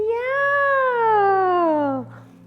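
A voice imitates a cat meowing, one long drawn-out mew that starts high and slides downward over about two seconds, close and clear, during a mother-and-baby yoga session.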